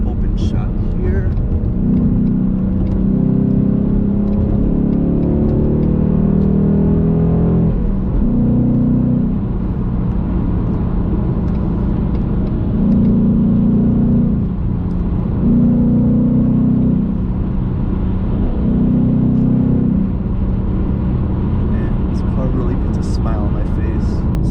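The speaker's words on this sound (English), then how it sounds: "Second to third gear shift." Ford Mustang GT engine pulling hard through the gears, a steady loud drone from inside the car that rises and briefly dips several times as gears change, heard alongside someone talking.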